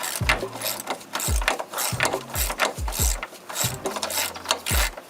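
A hand ratchet wrench loosens a nut on the lower forward thrust arm of a 2003 Mercedes CL55 AMG, giving repeated close, loud bursts of clicking pawl strokes in an uneven rhythm, with no talk.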